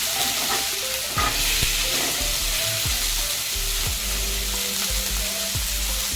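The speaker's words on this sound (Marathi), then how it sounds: "एकदा चांगलं मिक्स करून घेऊया." Diced capsicum, fresh peas and other vegetables for vegetable upma sizzle in a hot pan while a spatula scrapes and stirs them, a loud, steady frying hiss broken by repeated scraping strokes, with no speech.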